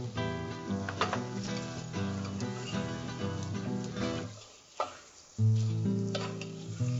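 Raw mango pieces for pickle fry in oil while being stirred, a close sizzle with scraping strokes that stops briefly near the end before a louder burst resumes, with no voices.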